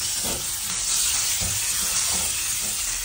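Thin-sliced chicken breast sizzles and fries steadily in a hot pan for Filipino pansit bihon canton, with a loud, continuous hiss and occasional stirring scrapes.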